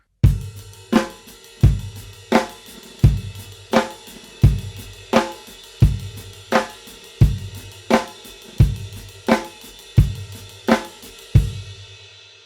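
A half-time rock drum groove with sixteenth notes on the ride cymbal: heavy kick and snare accents land at a steady, even pulse under a continuous shimmering ride wash, played solo and up close.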